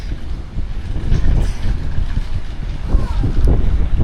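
Strong wind outdoors in Vietnam buffets the microphone in heavy, rumbling gusts that rise and fall, loud and close.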